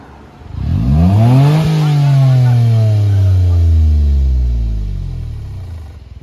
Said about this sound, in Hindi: भाई, चेक करना एग्जॉस्ट की आवाज।